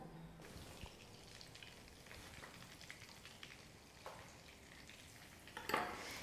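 Two spoonfuls of butter melt in a pan, giving a faint, steady sizzle with a soft clink near the end, close by and quiet.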